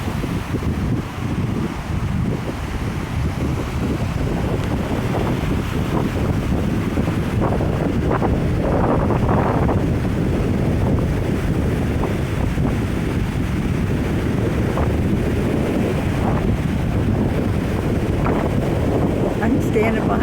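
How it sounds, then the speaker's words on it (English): A strong north wind gusting across the microphone beside big waves breaking on the shore, a continuous loud roar and buffeting with surf rumbling underneath. "I mean, we've got a stiff breeze going on here with craziness."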